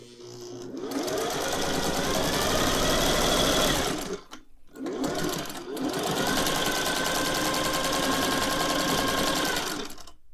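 A Singer 401A sewing machine stitches in two long, steady, fast runs separated by a brief pause, a close, even mechanical whirr with rapid needle rhythm.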